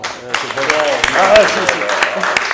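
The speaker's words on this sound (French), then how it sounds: "j'aimerais bien qu'on les applaudisse encore" A studio audience at a French television talk show claps in a burst of applause, with voices talking over it throughout.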